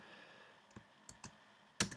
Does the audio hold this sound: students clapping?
no